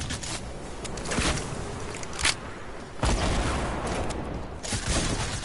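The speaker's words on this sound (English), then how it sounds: "They're trying to shoot you." Fortnite gunfire crackles in scattered bursts, with sharp broadband cracks and a louder boom near the middle, over a steady game-noise bed.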